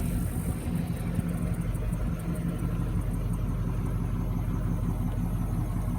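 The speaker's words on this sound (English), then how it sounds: "I think I got a leak in my exhaust also." A 1996 Impala SS with an LT1 V8 and a leaking exhaust idles steadily nearby, a continuous low rumble with a faint ticking pulse and no talking over it.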